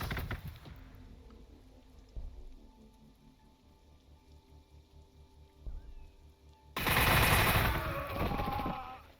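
Gunfire in the strategy video game Warhammer 40,000: Gladius sounds as scattered bursts of shots over quiet background music, ending in a loud, dense crackling volley.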